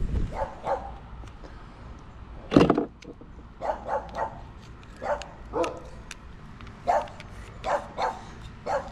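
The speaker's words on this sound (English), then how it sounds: "Sorry about the dogs." Dogs barking nearby outdoors, a string of sharp separate barks spaced through the clip with one louder close bark, over low background noise.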